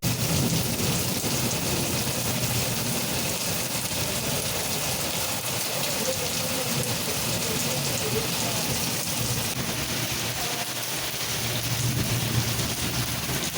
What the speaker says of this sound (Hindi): काफी तेज बारिश रात को यहाँ पर देखने को मिल रही थी